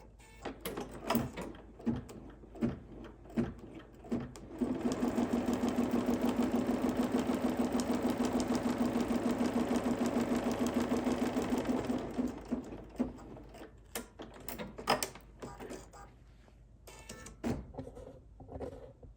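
A home embroidery sewing machine stitches a quilted hot pad in one long, steady humming run near the middle, framed by clicks and handling noises before and after, close and moderately quiet.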